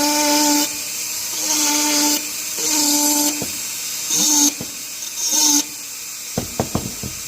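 A Dremel rotary tool with a burr carves wood in repeated whining bursts, each rising and cutting off, then a few sharp clicks and taps near the end.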